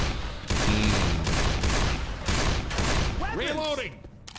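Magnum pistol shots in Left 4 Dead 2: a run of loud, evenly spaced gunshots cracking one after another over game noise, close and forceful, with a short chirping effect near the end.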